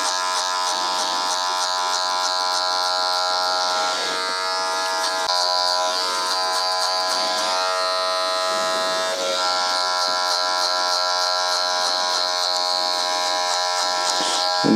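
An electric hair clipper buzzes continuously during a fade haircut on South East Asian hair, a loud, close, steady tonal drone with brief dips and shifts in pitch as the blade moves through the hair.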